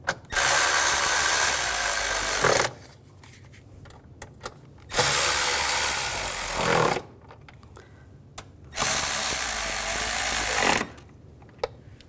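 Power tool tightening the ignition coil bolts on a 2006–2010 BMW 550i 4.8L V8, three loud whirring bursts of about two seconds each separated by quieter pauses with small clicks and handling noises.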